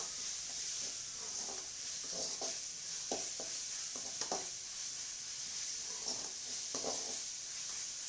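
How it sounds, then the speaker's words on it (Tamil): Ginger and garlic frying and being stirred in a pan while cooking a Tamil mushroom gravy, a steady soft sizzle with scattered scraping stir strokes throughout, no talking. "இஞ்சி பூண்டு சேர்த்து நல்லா வணக்கிக்கோங்க."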